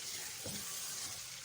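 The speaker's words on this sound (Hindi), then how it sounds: "तो बस अब इसमें चिकन ऐड कर देना है। और अब इसे भून लेना है" Chicken pieces frying in a pan for a Pakistani-style karahi with black pepper, a steady close sizzle with a brief stirring scrape near the middle, no talking.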